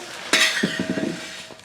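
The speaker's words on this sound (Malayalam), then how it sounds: "കൂടെ തന്നെ നമ്മൾ ചൗവരിയും കൂടെ വറുത്തെടുക്കുന്നുണ്ട്." Sago pearls are roasted in a pan, a metal spoon scraping and clinking against it in a short burst of stirring, with a faint sizzle underneath.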